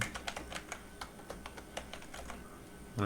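Steady, light typing on a computer keyboard while writing Python code, a continuous run of soft, quick key clicks at close range, fairly quiet and with no talk.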